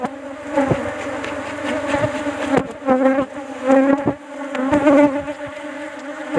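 Bees buzz steadily and loudly close by around an opened wooden hive box during cleaning, a continuous droning hum with bursts of individual insects passing near.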